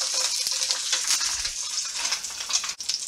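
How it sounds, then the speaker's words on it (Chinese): Duck breast fries skin-side down in olive oil in a hot pan, a continuous close sizzle with crackling spatters and one brief break near the end, no voices. "鸭胸皮朝下"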